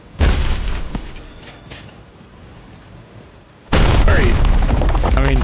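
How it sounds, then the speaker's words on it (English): Two loud booming explosions from the video game Sea Walker Saga, the first decaying into a rumbling tail, the second followed by crackling debris and chaotic effects. "Very huge explosions"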